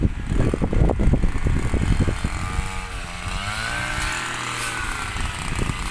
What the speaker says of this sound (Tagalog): Grass cutter.